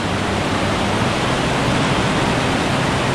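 Heavy monsoon waterfall rushing without a break, a loud broadband roar of falling water that stays close and even throughout, with no voices over it.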